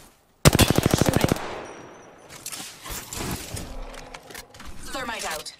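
Rapid machine gun fire in Rainbow Six Siege, a loud close burst of about a dozen evenly spaced shots, followed by clattering game effects and a voice speaking over the noise.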